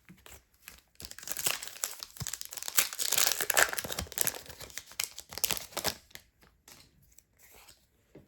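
Pokémon card booster packs are torn open and crinkled close up, with a quiet, busy stretch of foil rustling, ripping and crumpling that thins out toward the end.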